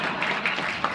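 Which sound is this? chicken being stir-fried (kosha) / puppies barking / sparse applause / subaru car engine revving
sparse applause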